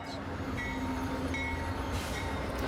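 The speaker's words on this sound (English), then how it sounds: "Our train, Amtrak's Coast Starlight, arrives about 10 at night in Emeryville." Amtrak Coast Starlight passenger train rolling along the rails, a steady close rumble with faint squealing tones and rising hiss, continuous and alone without talk.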